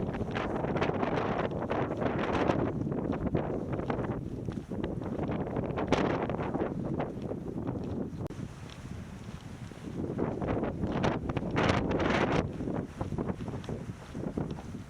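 Strong wind buffets the microphone continuously at Partition Arch in Arches National Park, roaring and gusting with low rumbling bursts, no voices heard.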